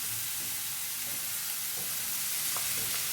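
Sliced mushrooms hiss and crackle in a hot frying pan while being stirred for egg and mushroom bhurji, a steady close sizzle with light scraping.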